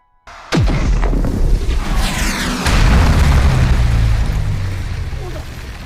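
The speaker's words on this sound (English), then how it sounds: "he literally shots a bullet and supersizes it to destroy a building" A huge anime explosion booms as a supersized bullet destroys a building, a sudden loud blast followed by a long sustained rumbling roar with crackling debris, a little speech mixed in.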